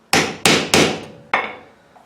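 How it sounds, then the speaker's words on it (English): Brass hammer striking a leather fillet knife sheath on a workbench: four sharp, close blows, three in quick succession and a fourth after a short pause, each ringing briefly before fading. "this is a brass hammer that we're using."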